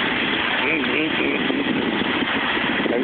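A fire engine idles nearby with a steady, even rumble that holds unchanged throughout, with no other sounds breaking through.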